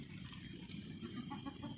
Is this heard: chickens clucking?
yes